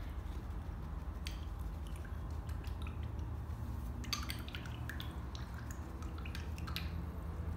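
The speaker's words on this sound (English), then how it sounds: "Now wash your brush out." A paintbrush is rinsed out in a water jar during an acrylic painting session. Soft, wet swishing and irregular dripping, splashy taps run close up over a steady low background hum.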